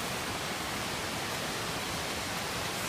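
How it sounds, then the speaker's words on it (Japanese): Ryumon Falls in Kokonoe, Oita, Japan: a steady, broadband rushing roar of falling water that fills the scene evenly, with no pauses and no voices. "すごい滝があります。"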